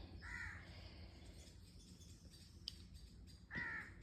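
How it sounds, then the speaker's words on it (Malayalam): Crows caw from a nearby tree where bats also roost, two distinct calls a few seconds apart over a faint steady outdoor hum, with no speech. "നിറയെ വവ്വാലും കാക്കയൊക്കെയാണ് കേട്ടോ ഈ ഇപ്പുറത്തെ മരത്തേൽ."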